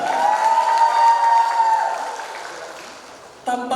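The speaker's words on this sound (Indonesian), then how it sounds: "Beri tepuk tangan yang meriah untuk 10 pasang finalis Duta Bahasa Kepulauan Bangka Belitung" Audience applause for the ten pairs of Duta Bahasa Kepulauan Bangka Belitung 2026 finalists at a language ambassador pageant, a dense steady clapping crowd with a sustained tone over it that fades, then a brief burst of music.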